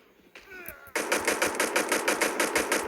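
Rapid automatic gunfire in a video game, a steady burst of loud repeating shots that starts abruptly and keeps a fast even rhythm after a brief quieter stretch.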